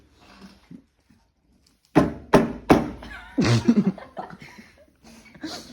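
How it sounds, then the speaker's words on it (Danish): A piece of glass is knocked down onto a tabletop several times, giving a few sharp, close knocks in quick succession, followed by laughter and voices. "Må jeg høre dig banke dit stykke glas ned i bordet?"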